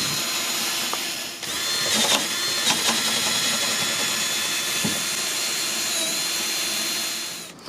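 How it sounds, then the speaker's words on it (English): A power drill bores holes for bolts into a toy hauler ramp, a steady loud whine that runs for several seconds with a few short catches and dips in pitch near the start. "let's drill for the bolts"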